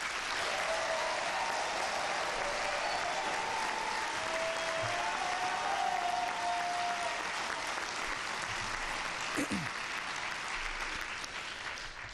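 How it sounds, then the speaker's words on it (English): An audience at a Los Angeles mayoral primary debate applauds steadily, a dense, even wash of clapping from a large crowd that holds for the whole stretch. "You may applaud."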